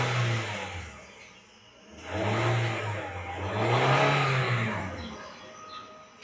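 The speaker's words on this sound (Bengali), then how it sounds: "আমি একটু স্টার্ট দিচ্ছি ইঞ্জিনটা, আপনারা জাস্ট সাউন্ডগুলো একটু শুনবেন।" A 2017 Toyota Premio F engine starts and then runs smoothly, revving up twice in long swells before settling, heard close with no talk.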